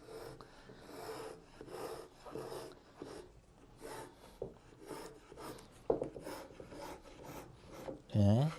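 Repeated rasping strokes of a marking knife scoring wood, close and steady, each stroke a short scratchy scrape, ending in a louder squeak.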